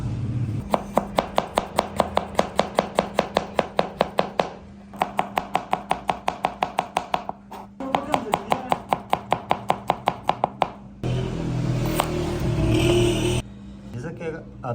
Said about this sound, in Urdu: ہم نے باریکی سے لہسن اور ادرک کو کاٹ دیا ہے